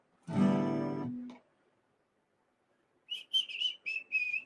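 A person whistles a quick run of four or five short high notes near the end, moderately loud and close, after an earlier low voiced sound and a pause.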